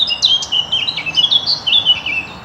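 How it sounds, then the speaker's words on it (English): A blackcap sings a run of quick, bright warbling phrases along a walking route in Surrey, clear and fairly close over quiet rural background. "That's not a nightingale. I think that's a black cap."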